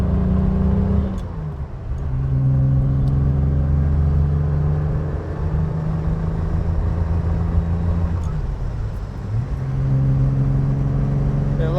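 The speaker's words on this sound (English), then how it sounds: "we're going to go down the curvaceous road to set up for our flybys." A 1967 Aston Martin DB6 coupe driving on a winding road: a steady mid-pitched engine hum with a few dips and swells as gears change, sustained throughout.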